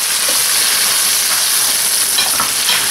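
Mixed seafood sautés in a pan with crushed tomatoes, making a loud, continuous sizzle and steamy hiss up close while it is stirred, with no talking.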